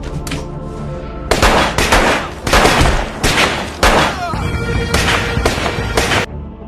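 Rapid gunfire bursts in a darkened room during an action film shootout, loud repeated volleys and machine-gun-like rattles with brief pauses, mixed with score and effects.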